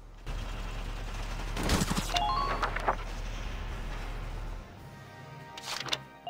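Gunfire in the strategy game Valkyria Chronicles: a brief burst of shots with clicking, ratcheting weapon mechanisms under a low steady hum, then a short second burst near the end.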